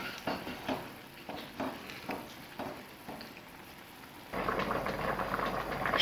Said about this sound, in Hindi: शीट्स भी हमारी बॉईल हो चुकी हैं